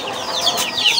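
A Brahma-breed hen on a poultry farm lets out a brief burst of loud, close clucking, a few quick rising calls packed into a second.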